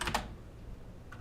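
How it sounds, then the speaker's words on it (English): Keys tapped on a computer keyboard during live stock day trading, two quick close clicks at the start and one lighter tap near the end over a quiet room hum. "I have to get better at typing Microsoft"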